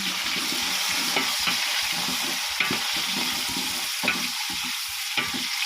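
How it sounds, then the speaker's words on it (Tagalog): Tomato, green chili and ginger fry for chicken biryani, giving a steady loud sizzle with scattered crackles and pops throughout, close and alone with no voices. "Tapos, ilagay na natin ang ating kamatis, green chili, at saka luya."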